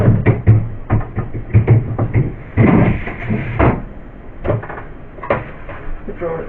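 A drawer at the bottom of a household fridge is slid and knocked about during cleaning, giving several close, sharp plastic clunks and rattles in bursts, with handling noise between them and no talk.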